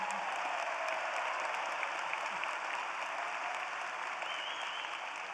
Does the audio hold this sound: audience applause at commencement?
yes